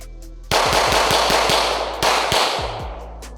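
Pistol fire at a shooting range from a Glock 45 and a SIG P320, a loud string of rapid, evenly spaced shots with a brief pause before a second quick volley.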